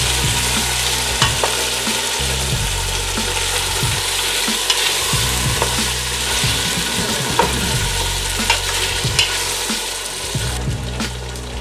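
Beef mixture sizzling and frying in a pot of ginger-infused oil, a loud, steady crackle with occasional stirring clicks, close and continuous without talk.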